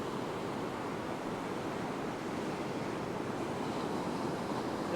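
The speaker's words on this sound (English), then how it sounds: "Even though the waves are not huge," Ocean waves wash onto a beach at low tide as a steady, broad roar of surf. Wind noise is mixed in, and nobody speaks.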